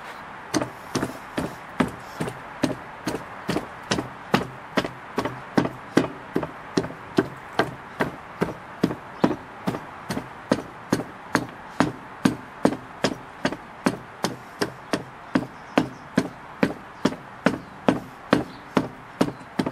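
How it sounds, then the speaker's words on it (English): Rhythmic tamping of sand into a metal casting flask with an aluminum plate separating the halves: a steady, even series of close, sharp thuds repeating about twice a second throughout, with no voice. "we're going to flip this over and tamp it from the other side, fill it up with sand"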